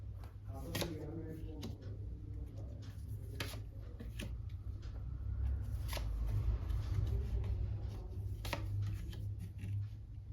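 Playing cards being shuffled during a tarot-style reading, producing repeated riffling bursts over a steady low hum, fairly close and moderate in level, with faint background talk.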